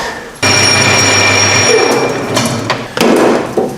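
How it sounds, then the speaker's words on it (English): A 7mm drill bores out the gas cap of a Hustler Badboy mini chopper to fit a rollover valve, a loud steady whir that falters and cuts out with clunks and thuds, then briefly kicks back in. "I'm just going to drill the gas cap out to take a rollover valve"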